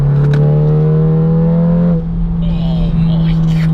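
Roll-on acceleration in third gear from a tuned 543 bhp Seat Leon Cupra on a dual carriageway: a loud, close, rising engine drone that shifts tone partway through, with a person talking over it.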